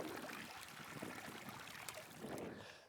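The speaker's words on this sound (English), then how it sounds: "as the water here in the stream, is flowing" Water flows in a stream, a soft continuous gurgling wash with small splashy surges, quiet and close, without talk.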